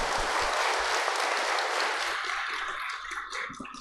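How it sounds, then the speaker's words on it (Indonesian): A crowd claps steadily and loudly, the applause thinning slightly toward the end, with no voices. "sekali lagi tepuk tangan yang meriah buat Pak Andri."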